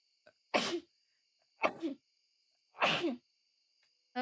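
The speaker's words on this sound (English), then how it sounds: "Oh god, I gotta sneeze." Three sharp sneezes spaced about a second apart, each a sudden close burst against a quiet background with a faint steady tone behind.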